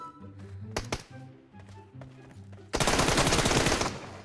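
M4 rifle fire in PUBG Mobile opens with a few scattered sharp single shots, then breaks into a loud, dense automatic burst that runs to the end.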